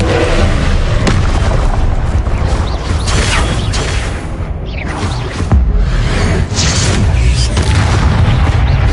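Confringo fire spells burst in loud, booming explosions during a Hogwarts Legacy combat fight, dense and continuous with whooshes and crashing impacts layered over deep rumbling.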